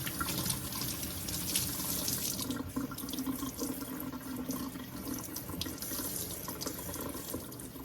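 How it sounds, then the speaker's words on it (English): Warm running tap water splashes steadily over a houseplant's leaves in a sink, rinsing off potting soil, a continuous close-up rush with small shifts in the spatter. "now I'm going to give the plant another little rinse"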